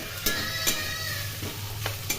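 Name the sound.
frying sliced potato, eggplant, beans in hot oil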